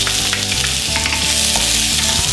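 Chopped onion sautéing in a hot pan with tamarind chilli baby potatoes underway, a steady loud sizzle and crackle with light stirring scrapes, no talking.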